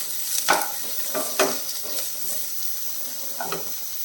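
Sliced onions with cumin sautéing in a pan, giving a continuous soft sizzle broken by a few spatula scrapes and stirs.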